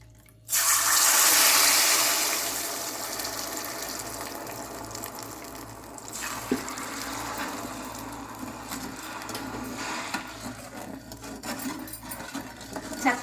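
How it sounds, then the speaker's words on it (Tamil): Water pours into a pan of sugar and ghee, starting with a loud gushing splash, then settling into a softer, uneven trickle and bubbling for several seconds. "இதுலேயே ஒரு 2 கப் தண்ணி சேர்த்துக்கோங்க."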